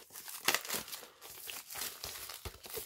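Plastic packaging on a Cyberpunk 2077 bonus collectibles pack is cut and pulled open at close range, with irregular crinkling, rustling and tearing bursts.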